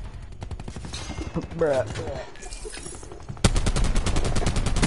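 Rapid gunfire from a Black Ops 4 match, with dense bursts of automatic shots that grow louder and more sustained toward the end, partly under a player's brief voice.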